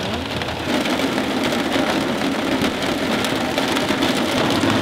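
Steady rain pours on an island fishing community in the Philippines, a dense continuous hiss with patter on surfaces, loud and close throughout, no voices.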